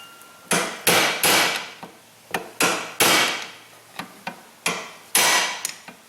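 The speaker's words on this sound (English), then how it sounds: "I'm gonna get a pry bar and tap on it a little bit." Pry bar striking a GM truck hydroboost hydraulic brake booster, a run of sharp, close metallic taps and heavier blows in irregular bursts, with no talk.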